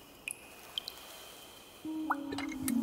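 Water poured over plants in a plant-growing video game: a few soft drips and squishy splashes, then a steadier trickling pour with light watery tones, quiet and close.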